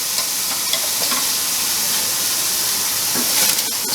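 Tomahawk steak searing on a barbecue grill, a steady close broadband sizzle and hiss of fat and meat on hot grates, continuous and fairly loud with small pops, no voices.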